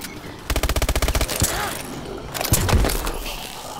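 Rapid burst of pistol fire in Advanced Warfare Exo Zombies, about a dozen quick evenly spaced shots emptying a full clip, followed by game impacts and a second cluster of hits, fairly loud over background game noise.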